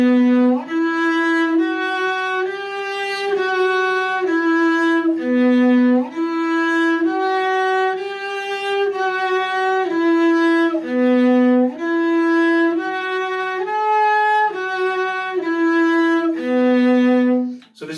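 A cello plays the first line of a Suzuki Book 3 positioning etude, even bowed notes stepping up and down in a repeating pattern, close and full, with no voices.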